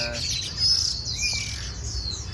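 A young male oriental magpie-robin chirps in short, high, thin calls against steady low background noise, close and fairly quiet, with no talking.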